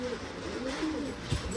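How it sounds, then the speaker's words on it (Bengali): Pet pigeons kept in a room coo in soft, low, repeated rolling calls, close by and fairly quiet, with a brief louder thump near the end. "এই যে এগুলো সব রুমে বাজির পায়রা এগুলো"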